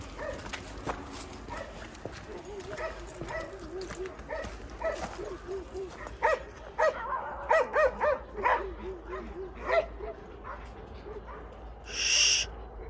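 Several dogs bark in repeated, overlapping bursts near the listener, growing louder midway, while a person speaks briefly among them.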